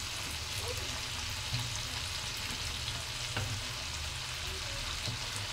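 Shrimp sizzle and crackle in a pan while being stirred, a steady frying hiss broken by occasional scrapes and clinks of a spoon, with a low background hum.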